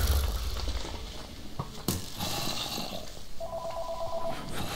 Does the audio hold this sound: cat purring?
no